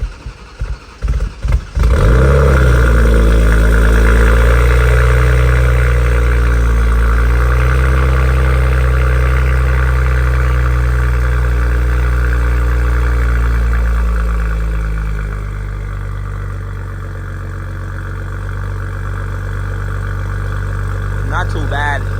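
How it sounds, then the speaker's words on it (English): A BMW M240i with a titanium exhaust on a cold start: a few quick starter bursts, then a loud, booming fast idle that drones steadily before easing down to a lower, calmer idle near the end. "so we about to do a cold start right now"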